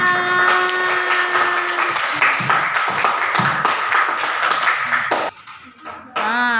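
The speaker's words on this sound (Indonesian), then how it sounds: "Kita kasih tepuk tangan." A classroom of students claps for quiz winners, a loud, busy patter of hands that stops abruptly near the end, followed by a brief pause and then a voice speaking.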